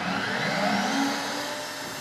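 Vacuum forming machine running while making canopies, a steady loud mechanical whir with a broad hiss and a slight rise and fall in pitch, continuous throughout with no talking.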